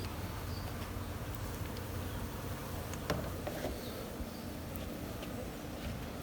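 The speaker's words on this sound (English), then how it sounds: "I can't even open this without bees running into it. There's bees in it." Bees buzzing around and inside an opened hive lid, a steady close insect drone filling the whole stretch with a few sharper flicks and knocks, no talking.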